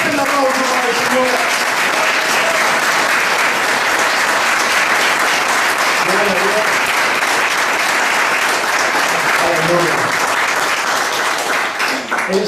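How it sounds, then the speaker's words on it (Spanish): A church congregation applauding loudly during a sermon, continuous dense clapping for over ten seconds with a preacher's voice faintly underneath. "Dele fuerte el aplauso para el Señor"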